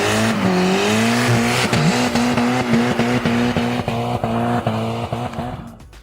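A Toyota MR2 W20 with a 2-liter straight four-cylinder engine revs steadily, its note rising and holding at a close, loud level with rhythmic gear-like pulses throughout before fading at the end.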